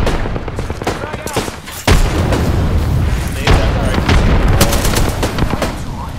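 A frag grenade explodes with a heavy boom amid bursts of rapid gunfire and further blasts in an Apex Legends battle royale match, loud and chaotic, with players talking briefly underneath.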